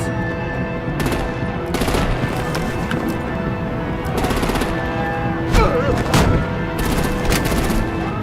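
Gunfire in the Batman The Enemy Within video game, Episode 2: Mad Love, as artillery opens on vehicles, with bursts of rapid automatic shots and sharp cracks over a continuous loud action soundtrack.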